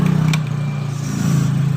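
A Yamaha NMax scooter idles with a rough, low, pulsing engine note, loud and close, with a slight clatter over the steady throb and no talking.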